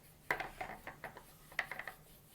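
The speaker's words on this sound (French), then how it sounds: "je reprends mon pinceau qui m'a servi à mélanger." A paintbrush mixing natural pigment with honey water on a palette, making soft close scraping and tapping strokes in two short clusters, quiet and without speech.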